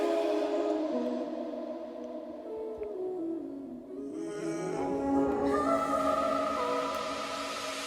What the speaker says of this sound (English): The only things I added were some new vocal samples, some new harmonies that are being introduced